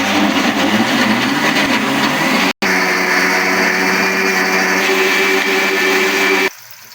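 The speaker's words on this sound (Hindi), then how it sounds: "ब्लेंडर में करेंगे" An electric blender whirs loudly as it mixes gram flour batter, a steady high-pitched motor hum running for several seconds with a brief cut in the middle before it stops abruptly.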